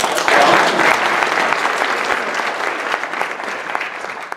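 Dense audience applause at a revival concert rolls in loud and full, then eases slightly while staying steady, with a few sharper claps poking through near the end.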